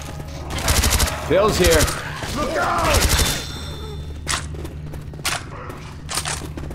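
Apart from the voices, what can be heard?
gunfire in Left 4 Dead 2 video game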